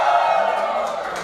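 Seminar audience shouting and cheering together in a steady, dense roar that holds loud for about a second, with no single voice standing out.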